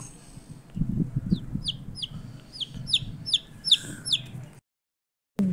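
A young chick clucks and peeps in a series of short, fairly close calls over a low background rumble, the calls coming in a quick irregular run before a brief silence.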